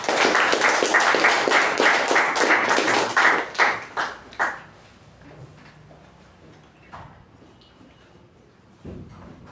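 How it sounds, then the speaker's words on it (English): Toastmasters club meeting audience gives a round of applause, a dense burst of clapping lasting about four seconds that breaks into a few scattered final claps and fades into a quiet room. "come our club treasurer, Toastmaster Snehal, with the thunderous round of applause"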